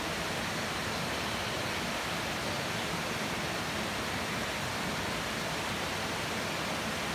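Small waterfall in the Lake District, a constant broadband rush of falling water, steady and unbroken from start to finish.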